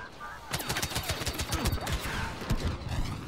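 Turret gunfire in a Star Wars video game: a rapid, dense fusillade of sharp shots, close and loud, firing in an irregular burst with some overlapping background chatter.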